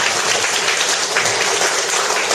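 An audience at a Korean seminar gives sustained applause, dense steady clapping from many hands filling the room throughout, moderately loud and without any talking.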